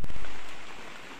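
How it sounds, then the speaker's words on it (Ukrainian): Rain falls over a vegetable garden just planted with tomato seedlings, a dense, even hiss of drops close by that fades slightly, with no voices. "дощ пішов"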